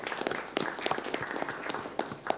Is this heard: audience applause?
yes